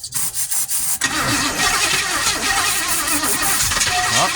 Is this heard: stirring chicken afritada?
no